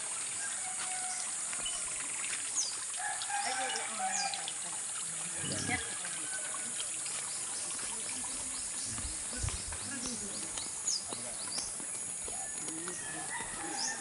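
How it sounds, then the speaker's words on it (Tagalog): Small stream flowing beside a rural trail in Bicol, heard as a steady, continuous wash throughout, mixed with a loud high insect drone, occasional distant bird or rooster calls and a few brief low thumps nearby. "Ayan, sapa na naman yan."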